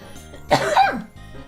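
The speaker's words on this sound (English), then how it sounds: "I gotta cough." A single short cough, close and fairly loud, with quiet background before and after.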